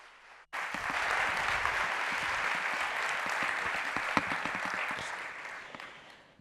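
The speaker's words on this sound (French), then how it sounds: "Un tonnerre d'applaudissements pour Iliona" Sustained applause from a seated audience greeting three presenters on stage, starting abruptly after a short quiet moment and holding as a dense, even wash of many hands before tapering slightly at the end.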